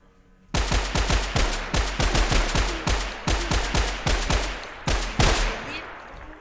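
Rapid automatic gunfire aimed at a Skibidi in the Minecraft video game, loud bursts of closely spaced shots with brief gaps between volleys and no talking.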